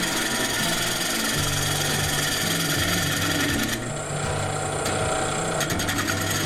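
A lathe tool cuts into spinning 15-year-old walnut, making a loud, continuous rasping scrape over the steady drone of the lathe, with the cut's tone shifting partway through.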